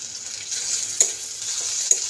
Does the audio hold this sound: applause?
no